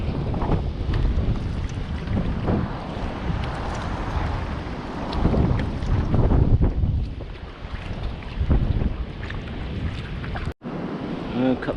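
Sea waves surge and slosh around a kayak off the Dorset coast near Durdle Door, with heavy buffeting wind noise on the microphone and loud, continuous wash throughout.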